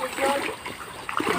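Someone wading across a shallow river in rural countryside, with continuous sloshing and splashing of water close by and a voice talking over it.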